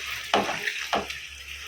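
Chicken sizzling in a pan as it cooks for a dry chicken dish, a steady frying hiss broken by two sharp bursts as it is stirred, close and fairly loud.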